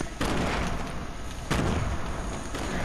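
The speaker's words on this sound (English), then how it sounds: "Grenade. What's that? Run! Purple grenade launcher." Purple grenade launcher firing in a Fortnite match, heard as two loud broadband blasts about a second and a half apart over continuous game noise, with no talk in between.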